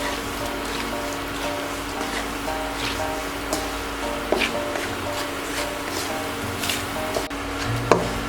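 Knife strikes on a wooden board, spaced and irregular, with a steady low hum and crackling background throughout.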